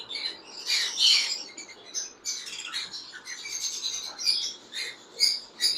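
Parrots in a pet shop, among them a blue cinnamon conure, give shrill chirps and squawks in bursts that keep overlapping, moderately loud, with no voice over them.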